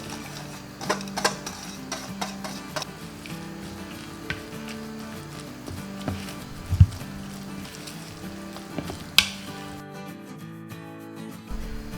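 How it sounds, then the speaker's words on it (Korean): Enoki mushroom pancakes frying in plenty of oil in a pan, a soft steady sizzle broken by scattered pops and clinks of utensils, with a louder clatter near the end. "요거는 좀 넉넉한 기름에 구워주셔야 맛있거든요."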